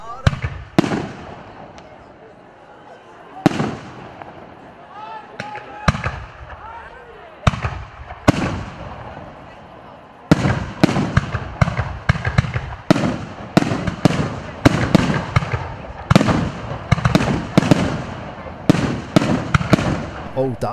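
A large fireworks display bursts again and again at a cycling race event, booming and crackling in uneven volleys, sparse at first then thick and rapid, with spectator noise underneath.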